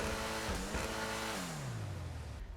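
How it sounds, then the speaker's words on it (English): An Ocelot Ardent sports car (Lotus Esprit style) on stock exhaust in GTA 5 revs up, its engine tone sweeping down as it decelerates, with crackling backfire pops near the end. "we still get the backfire with the stock"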